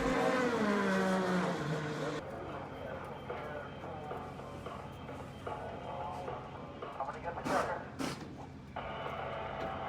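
An IndyCar race car at WeatherTech Raceway Laguna Seca during the 2019 Grand Prix of Monterey revs its engine in rising, harmonic bursts, heard under ongoing commentary speech and crowd-level background noise.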